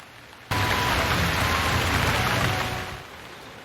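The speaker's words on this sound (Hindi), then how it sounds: "फैसलाबाद शहर और गिरदोनवा में आज दूसरे रोज भी ठंडी हवाओं के साथ बारिश का सिलसिला जारी है।" Steady rain pours down during a cold, windy spell in Faisalabad, a dense hiss that starts abruptly and holds loud and even for over two seconds before easing off, with no voices.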